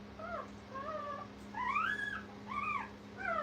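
Young puppies whimper and fuss with thin, rising and falling whines that come in short bursts one after another, faint, over a steady low electrical hum.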